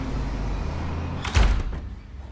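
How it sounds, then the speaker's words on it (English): A door in a remodeled Torrance home is pushed shut with a short solid thud and brief rattle, after which the steady background noise drops away into quiet. "We're going to shut the door."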